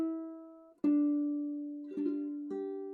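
Clawhammer-style ukulele playing the closing phrase of Wildwood Flower: a few plucked and brushed strums ringing out clearly and close, each chord sustaining and decaying, with no talking.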